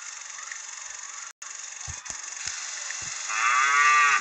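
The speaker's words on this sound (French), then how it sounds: "C'est une vache." A cartoon cow in the My Town video game lets out a loud, drawn-out moo near the end, preceded by steady game background tones and a few faint clicks.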